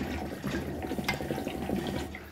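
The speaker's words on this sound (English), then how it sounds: "I'm going to blow air in it, and it's going to sound like bubbles." Air blown through a small rubber hose submerged in a can of water, making a steady bubbling gurgle throughout, moderately close with no talking.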